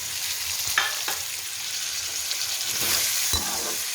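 Green peas and a chopped large potato fry in hot oil in a pan for pulao, a steady close sizzle with a few scraping stirs and no voices.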